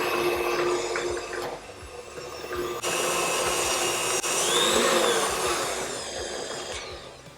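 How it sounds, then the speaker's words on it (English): Vanilla cake batter beaten by an electric mixer, giving a loud continuous motor whir with a slight shift in pitch partway through and no talking. "So onto the mixer again for another couple of minutes."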